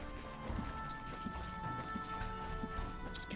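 A horse gallops in the video game Halls of Torment, a quick rhythmic clatter of hoofbeats running steadily over a dense game soundscape.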